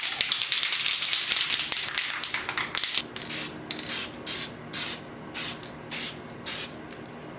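A spray can lays a second coat of paint on a Yamaha Virago 250 bobber's front wheel and forks: one long hiss, then a regular series of short, even bursts, heard close and without talk.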